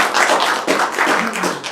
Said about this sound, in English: Give them a warm applause, please.